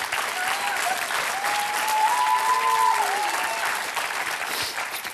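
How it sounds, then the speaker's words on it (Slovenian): An audience breaks into loud, sustained applause at a Slovenian stand-up comedy and impression show, dense clapping that carries on steadily with a faint voice briefly audible underneath. "En velik aplaus."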